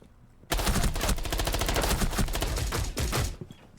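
Rapid automatic gunfire from a video game weapon bursts in suddenly and rattles loud and close for about three seconds before cutting off.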